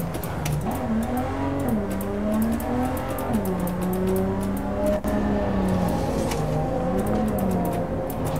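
A car in the Cyberpunk video game, driven with a joystick, gives off a steady, loud engine drone whose pitch rises and dips as the throttle changes, with no speech over it.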